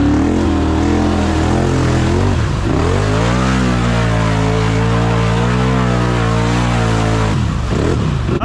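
A Can-Am Outlander ATV engine drones loud and close as it drives over a tree root, its pitch dipping twice when the throttle is released and then rising again, with no talk.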